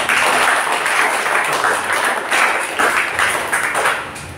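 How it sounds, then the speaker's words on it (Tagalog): A church congregation claps during a Sunday service, a close, loud round of applause that rises and falls in uneven waves with a few sharper individual claps. "Isang nakapsat na palakpak."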